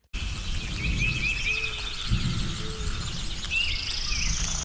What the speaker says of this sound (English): Quite a loud forest with lots of birds around me